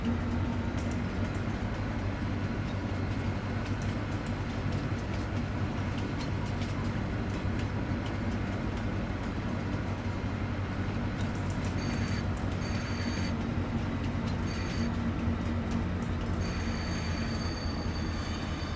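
A train in a video game backs up into a drop-off point, giving a steady low rumble of rolling rail cars with faint squeal-like tones toward the end, unbroken and without talk.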